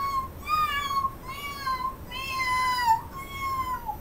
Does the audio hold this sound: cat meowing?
yes